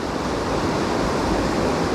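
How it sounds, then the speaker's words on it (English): White water from waves breaking on a fishing shore makes a constant loud roar of surf and wash with no pauses or voices. "I see there's a lot of white water right here."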